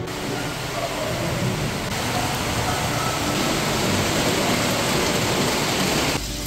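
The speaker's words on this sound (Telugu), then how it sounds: "సడన్గా ఫుల్ వాన పడుతుంది" Steady, dense hiss of heavy rain pouring down continuously, loud and close, with no pauses throughout.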